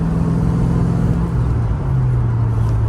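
A 1994 Mustang GT 5.0 V8 with a newly fitted idle air controller, a steady loud engine drone whose pitch steps down as the revs settle toward idle, no talking.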